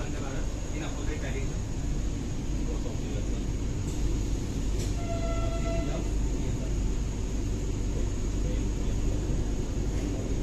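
A Vande Bharat Express on the Bhopal–Indore inaugural run moves along with a loud, steady rumble and rolling rail noise, heard from inside or beside the train with a few brief tonal squeals and background chatter.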